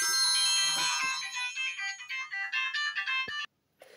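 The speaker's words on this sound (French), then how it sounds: "Le téléphone qui sonne." A phone ringtone chimes in a bright electronic melody of quick repeating tones, loud and alone in a quiet room, then cuts off abruptly.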